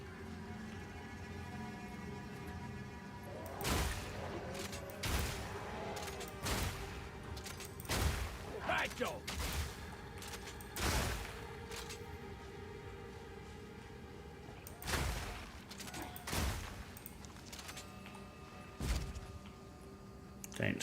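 Grenade blasts in the Path of Exile 2 action RPG, a string of sharp, fairly distant bangs spread irregularly over a low droning background with soft ambient effects between them.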